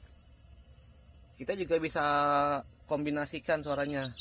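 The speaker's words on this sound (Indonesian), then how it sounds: "ini suara serangga nih" Insect sound effect from the relaxation mode of a Hyptec HT car: a steady, high, shimmering chirr of crickets running throughout, largely under a person talking.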